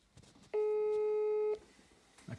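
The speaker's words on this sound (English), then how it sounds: "I'll give it a" A single steady ringback tone of about one second plays on an outgoing phone call. It is loud and clear, with faint background noise before and after.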